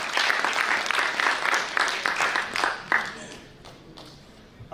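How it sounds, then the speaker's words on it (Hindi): An audience at a poetry recital applauds to welcome a poet, giving a dense burst of clapping that thins out and fades, with a voice briefly audible near the end. "आप चाहे तो एक बार तालियां बजाकर उनका स्वागत कर दें।"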